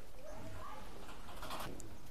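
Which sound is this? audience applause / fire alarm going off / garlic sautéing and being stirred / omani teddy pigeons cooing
omani teddy pigeons cooing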